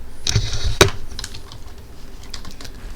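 A few quick, sharp keystrokes on a computer keyboard sound up close near the start, then fade to faint, scattered taps.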